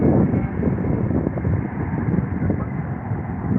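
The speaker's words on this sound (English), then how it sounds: "This could be another floaty A320 arrival." Airbus A320 airliner arriving on the runway at Heathrow, a steady loud rumbling roar of jet engines that holds evenly without a break, muffled with wind noise.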